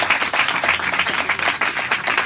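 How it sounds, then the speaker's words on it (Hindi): A church congregation claps loudly during a Hindi-Urdu sermon, producing a dense, continuous burst of many hands without any talking. "आइए जोरदार तालियां बजाकर पाकी के लिए, खुदा के रूह के लिए जोरदार तालियां बजाकर खुदा के नाम पे जाएंगे।"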